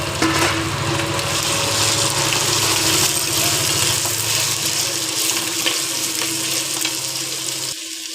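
Ginger garlic paste frying in a pan until browned, a loud continuous close sizzle with a low hum beneath, easing off just before the end.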